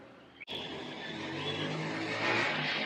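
A car passes along a quiet residential street, its broadband road and engine noise rising steadily after a brief click and swelling louder toward the end as it draws near.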